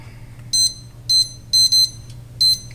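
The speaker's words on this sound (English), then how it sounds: "I'm going to set the timer for 45 minutes." An oven timer gives bright, high-pitched electronic beeps: five short bursts in an irregular pattern, one a quick double, sounding close and clear over a low background hum.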